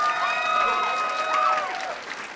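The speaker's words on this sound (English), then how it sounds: "give him a big round of applause." Audience applause and scattered cheering at an Orlando event at Valencia College, a broad steady wash of clapping with some crowd noise and whistle-like tones over it, holding level for the whole stretch.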